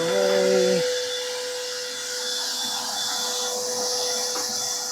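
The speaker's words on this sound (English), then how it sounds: "Vacuum on." A shop dust collection vacuum runs with a steady high whine and broad airy roar, loud and close, briefly joined at the start by a lower motor tone that cuts off.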